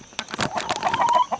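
Backyard chickens cluck and chatter while being fed larvae, several close, busy clucks and squawks in a quick irregular burst, with some rustling.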